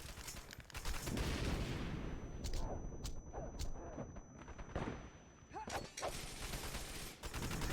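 A grenade tossed in the shooter game Wanted Dead, set amid heavy, continuous gunfire and booming blasts that rumble loudly throughout, with someone talking over the combat.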